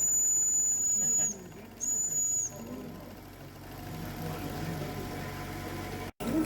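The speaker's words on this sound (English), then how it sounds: "A view of one of the small engines again." A small, unusual model engine runs at a model engineering exhibition with a steady mechanical whir and rattle, a high thin whine sounding briefly near the start.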